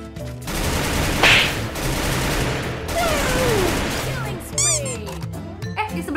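Rapid bursts of automatic gunfire from the Free Fire battle-royale game, loud and continuous with a sharp impact crack partway through, while a voice talks over the action.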